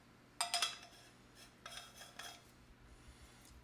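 A plastic dosing funnel screwed onto a manual coffee grinder gives a few brief metallic scrapes and clinks. They come in short bursts, close and quiet, with no voices.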